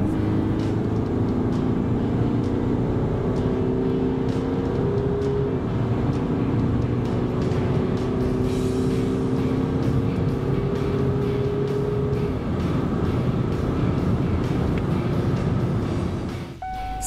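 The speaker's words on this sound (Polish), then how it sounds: "Od 90 do 140 km na godzinę SUV Peugeota przyspiesza tak." Peugeot SUV with an eight-speed automatic accelerating from 90 to 140 km/h, a steady loud cabin drone of engine and road noise with rising tonal engine harmonics, no talk.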